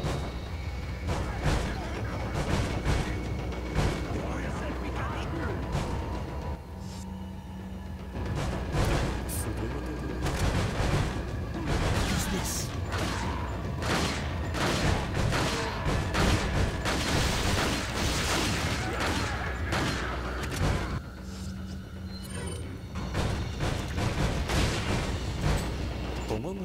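Gunfire in Resident Evil 4 (2005) comes as dense bursts of sharp shots and booms over game noise. A voice talks at times throughout.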